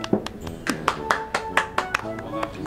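Hand claps, about a dozen sharp irregular strikes spread over a few seconds, close and moderately loud, played alone without any talking.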